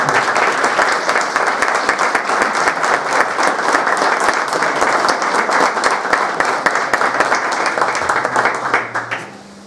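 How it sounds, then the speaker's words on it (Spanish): Loud, close applause from a crowd at an anniversary ceremony for Laguna Blanca National Park, dense and continuous, tapering off in the final second. "Fuerte aplauso"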